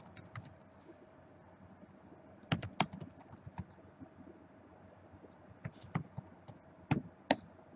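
Answers typed on a computer keyboard in an educational quiz game, scattered quick key taps in short bursts and single clicks, fairly quiet and close, with no voices.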